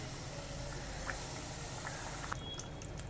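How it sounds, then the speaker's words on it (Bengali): Fish curry gravy of fasha fish bubbling in a pan, a steady low simmering hiss with faint scattered pops of bursting bubbles. "ঝোল ফুটে উঠেছে"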